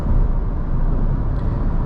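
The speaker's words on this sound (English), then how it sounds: "Now you can hear more tire noise rather than wind noise." A steady, droning road rumble fills the cabin of a 2021 Renault Zoe Intens electric car at night, a constant low roar of tires rolling on pavement at speed.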